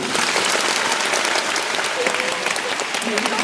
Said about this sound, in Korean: 경기 피라모니 오케스트라와 정치영 지휘자님을 큰 박수로 모시겠습니다